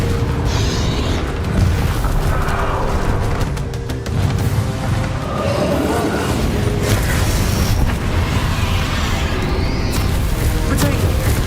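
A Confringo fire spell blasting in the game Hogwarts Legacy during a final boss battle: loud, continuous booming and crackling magic effects with rumbling impacts throughout, no talk.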